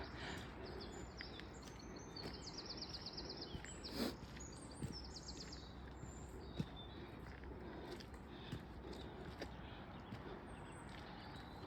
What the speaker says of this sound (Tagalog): Nag-uusap ang mga ibon,